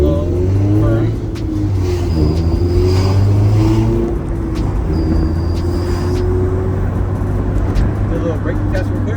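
A car fitted with new K-Tuned coilovers and steel braided brake lines drives along a road with a steady engine drone and road rumble, shifting tone as it slows, while people talk over it inside the cabin.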